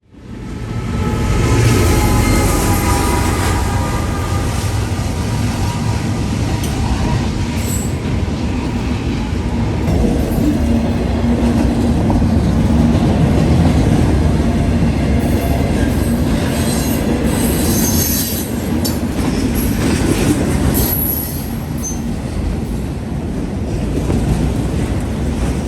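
A Norfolk Southern freight train, with an NS ET44AC locomotive mid-train, rolls steadily past at night heading west through London, with a continuous loud rumble, wheel squeal and clatter of railcars close by.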